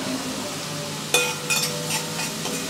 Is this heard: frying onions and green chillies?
yes